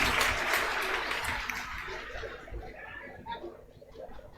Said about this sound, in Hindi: चलिए एक बार इन लोगों के लिए भी जोर से ताली बजा दीजिए